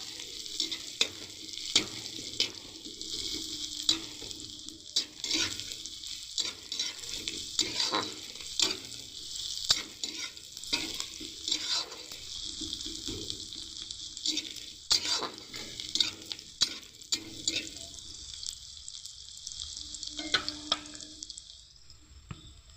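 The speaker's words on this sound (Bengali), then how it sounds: "এই দেখুন লাল লাল করে এবারে ভালো করে ভেজে নিচ্ছি।" Onions sizzle continuously in a pan while being fried until reddish for Kashmiri aloo dum, with frequent clinks and scrapes of a stirring spoon throughout, close and without talk.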